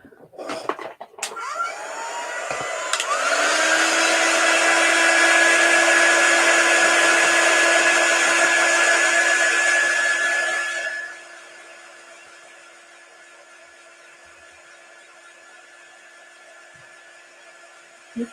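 A handheld craft dryer blows over chalk paste on a wooden board, a loud steady whooshing drone that starts after a click, runs about ten seconds, then drops to a quieter hum.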